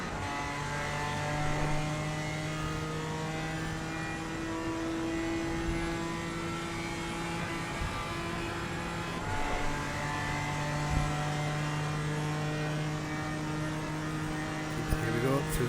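A BMW GT4 race car in a racing game powers out of a corner at Mount Panorama, its engine note climbing through shifting revving tones with a steady hum underneath, continuous and fairly loud.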